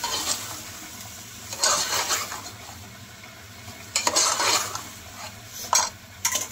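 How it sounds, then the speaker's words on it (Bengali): Chicken being stirred and sautéed in a pot along with new potatoes, with intermittent bursts of a spoon scraping and clattering against the pot over a faint background, no talking. "মাংসটা ভালো করে কষিয়ে নিচ্ছি।"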